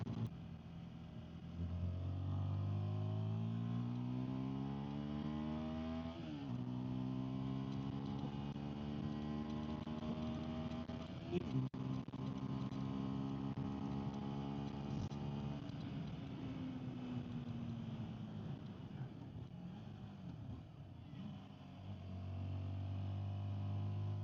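A CFMOTO NK125 motorcycle rides along a road, its engine rising through the gears in repeated climbs and shifts, steady and fairly close, with no talk.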